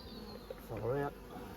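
Honey bees buzz around five-frame nucleus hives being moved into nine-frame supers at an outdoor apiary, a faint steady hum with one brief louder swell near the middle.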